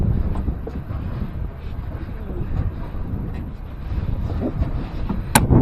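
Riding in a small boat on the water: wind buffets the microphone with a continuous rough rumble and churning water, loud and close, with a brief sharp knock near the end.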